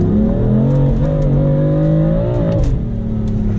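A BMW M3 F80 engine revving and accelerating on a freezing day, a loud, close, throaty drone with pitch rising and falling in steady pulls and no talk.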